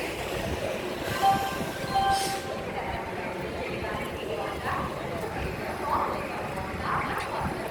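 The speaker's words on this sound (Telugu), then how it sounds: "మీరు చూస్తున్నారు విజయవాడ రైల్వే జంక్షన్" Trains rumble and clatter through Vijayawada railway junction, with a steady mechanical din and occasional louder bumps from passing carriages.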